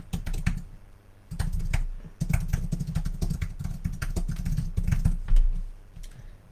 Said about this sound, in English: I'm going to type in a new topic.